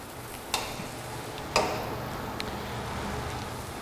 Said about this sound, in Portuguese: Então nós vamos fritando.